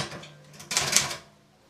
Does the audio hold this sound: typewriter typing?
yes